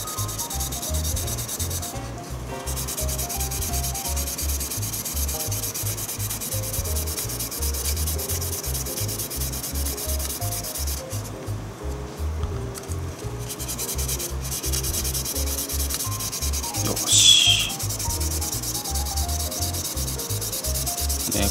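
Sandpaper scrubs steadily over the plastic body of a 1/24 Aoshima LB Works R35 GT-R model kit, a close, continuous rhythmic rasp of back-and-forth strokes with no voices.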